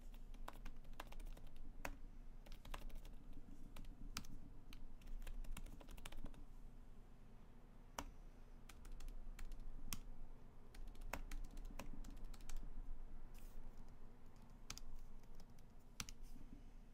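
Steady typing on a computer keyboard while filling out a library curbside lending request form, with dense, continuous key clicks at close range throughout, alone with no talking.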